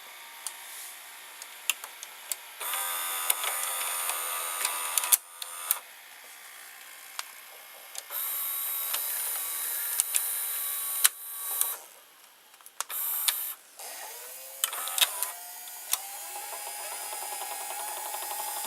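Steady mechanical whirring and clicking of a Zenith VRD208 VCR tape transport running, with intermittent clunks and shifts in tone, fairly quiet and close.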